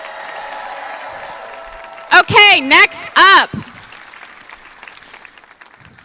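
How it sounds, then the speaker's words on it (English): A town hall audience's applause dies away into a low, steady patter of clapping. A voice briefly speaks over the tail of it. "Everyone give him another big round of applause."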